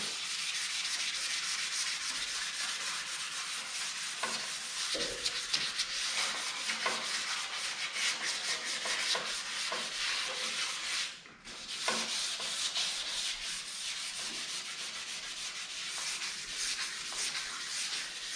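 Hand sanding of a car body, 320 grit dry then 400 wet, a continuous close scratchy rubbing with repeated back-and-forth strokes and one brief pause.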